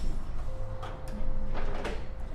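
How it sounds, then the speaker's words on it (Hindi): A few quick knocking and clattering bangs ring out over a steady noisy background, with a faint hum running through, as someone removes both tyres from a motorbike at night. "वहीं खटखट की आवाज से रोहन की नींद खुल जाती है"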